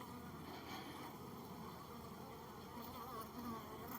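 Defensive honeybees at the hive buzz faintly and continuously, a soft hum over background noise with no talk.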